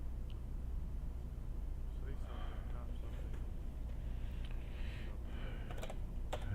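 Clacky computer keyboard typing in short bursts, faint beneath a steady low hum, with voices audible in the room.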